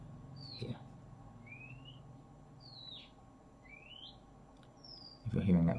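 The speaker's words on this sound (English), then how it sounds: "it makes that very strange sound, whistling sound" Strange whistling calls from a bird in garden trees, five separate rising and falling whistles spaced about a second apart, fairly faint over low background hum, with a brief rustle near the start and a louder knock at the end.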